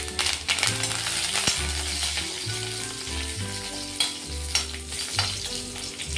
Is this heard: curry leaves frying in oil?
yes